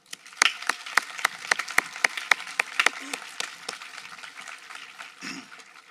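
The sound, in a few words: graduation audience applause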